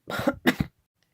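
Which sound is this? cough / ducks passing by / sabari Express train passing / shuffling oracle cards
cough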